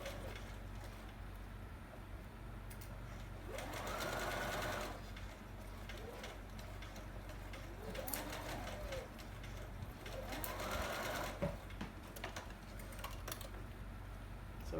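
Sewing machine running in bursts while stitching a fabric tie onto a face mask a quarter inch from the edge, a steady mechanical whir over a low hum with short pauses between runs.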